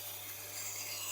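A knife blade rasps steadily against a Tormek silicon carbide sharpening stone, a faint, continuous gritty scraping with no talk.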